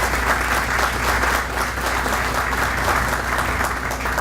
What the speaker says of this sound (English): So would you please give a round of applause to all those that I've introduced here today.